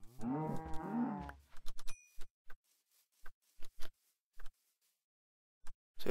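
A cow in the video game Minecraft gives one drawn-out moo up front. It is followed by scattered short clicks and taps in otherwise near silence.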